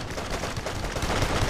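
Gunfire in Duke Nukem Forever, a dense, loud clatter of rapid shots rolling on continuously with heavy low-end thumps.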